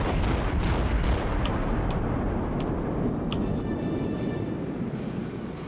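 Incoming naval gunfire from a Fuso battleship and other ships in World of Warships, a dense rumbling barrage of heavy booms and distant impacts with sharp splashes, continuous and loud throughout, no voices.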